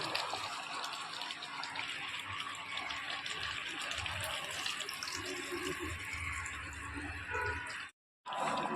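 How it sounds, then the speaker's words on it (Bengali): Water pours steadily into a pot of cooking chicken and potatoes, a continuous close gushing splash at moderate level that cuts out briefly just before the end. "এবার পরিমাণ মতো জল দিয়ে দেবো"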